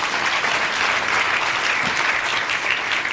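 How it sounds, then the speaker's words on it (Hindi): Steady congregational clapping fills a church Holy Communion Sunday service, dense and even throughout with no clear breaks. "ताली बजाएंगे।"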